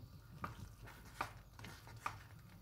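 Purple sticky rice dessert with plenty of coconut milk stirred in a pot, three soft scraping strokes spaced roughly evenly, quiet and close with no talk.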